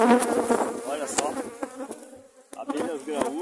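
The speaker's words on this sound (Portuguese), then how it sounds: "Abelhas graúdas." A swarm of large bees hums in a dense, close buzz that rises and falls, with sharp individual wingbeats flicking past near the listener.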